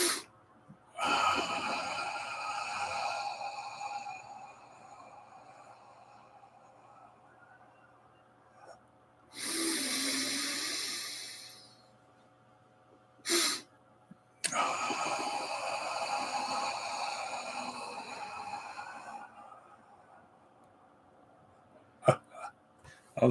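Breathing exercise of a double inhale followed by a long, slow exhale, heard as loud close breaths: rushing airy bursts and sustained exhales with quiet gaps between them, and a faint low hum behind.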